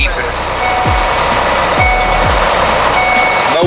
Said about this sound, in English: Get this seatbelt on so I don't drive y'all crazy with that beeping.